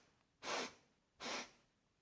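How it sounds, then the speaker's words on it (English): Two quick, forceful nasal breaths, deep and fast sniffs through the nose, close and clear, separated by a short pause in otherwise quiet surroundings. "Try breathing deep and fast through your nose."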